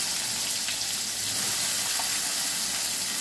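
Chopped onion dropped into hot oil with garlic for soya chaap, giving a loud, continuous close sizzle and hiss that stays even from start to finish.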